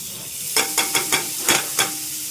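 Butter melts in a pan for homemade jaggery chocolate, a close, even hiss of sizzling with six quick stirring scrapes in a row.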